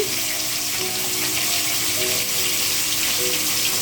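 Spices with turmeric and salt sautéing in a hot pan, giving a loud, dense, continuous sizzle and hiss close up, with faint stirring scrapes and no speech.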